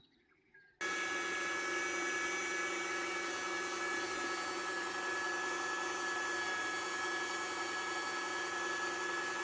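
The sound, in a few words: meat grinder mincing pork and chicken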